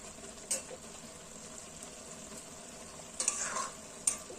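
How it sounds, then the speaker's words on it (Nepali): Fapar saag cooks in a pan, a soft steady sizzle broken by a few scraping stirs of the spoon, quiet and close with no voices. "मजाले चलाउनु पर्छ।"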